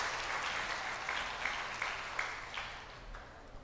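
A church audience claps in a steady, moderately loud round of applause with a few sharper individual claps standing out, continuing without talk.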